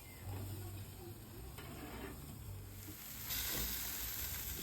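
Quiet, steady sizzling and crackling of burgers and pork ribs frying on a barbecue grill, a soft continuous hiss with small pops, no talking.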